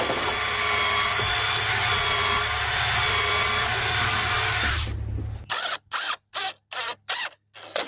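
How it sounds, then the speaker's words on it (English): A power drill whirs steadily for several seconds, then fires in short repeated bursts as a screw is driven into the wood of a half wall. "you'll learn how to maneuver the drill in and out so you can get it just right."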